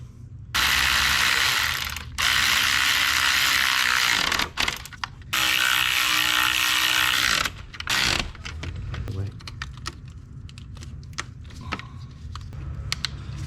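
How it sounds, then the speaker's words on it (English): A ratchet tightens the valve cover bolts on a 2005 Chevy Suburban in long, loud bursts of close, rapid clicking broken by short pauses, followed by softer scattered clicks and handling noises. "I'm gonna put all those bolts on, tighten them up"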